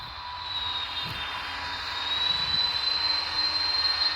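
A jet airliner, a DC-10, deploys thrust reversers in a flight simulator game, a steady whining engine roar with a rising high tone that swells louder midway, with no talking.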